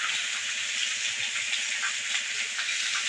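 Onion and vegetables frying in oil in a pan, a steady close hiss and sizzle with small crackles throughout and no voices.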